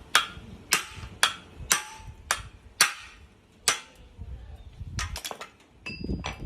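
Sharp metallic hammer strikes drive a bearing down onto a motor pulley. About seven evenly spaced blows are heard up close, followed by a quicker cluster of lighter taps.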